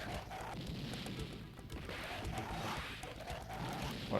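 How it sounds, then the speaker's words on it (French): Dense, constant din from a dinosaur fighting game on an arcade emulator: layered roars, hits and crashes blending together at steady moderate loudness for the whole stretch. "c'est des dinos qui se battent"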